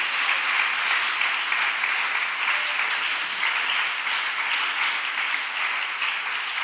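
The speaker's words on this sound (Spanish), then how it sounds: "A ver, un aplauso fuerte." Loud, sustained applause from a church congregation, steady clapping throughout with no pauses.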